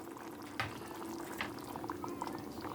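A little water goes into a pan of pointed gourd and potatoes, a soft splash followed by steady bubbling and sizzling heard close up, with no talking.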